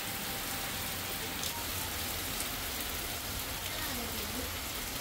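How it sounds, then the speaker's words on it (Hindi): Heavy monsoon rain in the Himalayan hills pours down in a dense, steady hiss that holds constant throughout, with no pauses. "बल भयंकर तेज बारिश शुरू हो गई है।"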